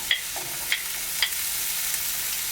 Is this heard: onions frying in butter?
yes